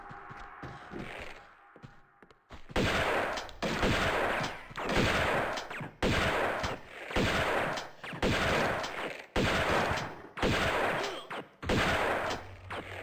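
Repeated gunshots fire at Lara Croft in Tomb Raider II from 1997, a series of evenly spaced loud bangs, each with a short ringing tail, arriving in a steady rhythm after a quieter opening.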